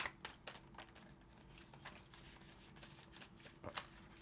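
Tarot cards shuffled by hand in a steady riffling patter of quick soft flicks, close and quiet, without talk.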